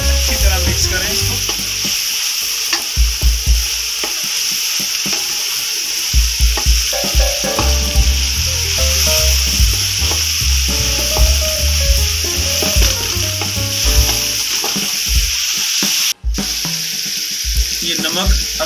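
Brinjal bharta being stirred and fried in a pan, a steady sizzle broken by repeated scraping strokes of a spoon across the pan, loud and close throughout with no talking.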